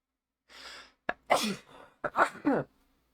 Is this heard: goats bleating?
no